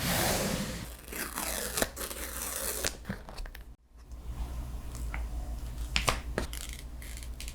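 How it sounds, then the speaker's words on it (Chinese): Plastic film wrap is ripped off an iPhone 15 Pro box in close, crinkly tearing bursts and crackles over several seconds, briefly pausing midway, with no talking. "我们就快速来撕开封膜"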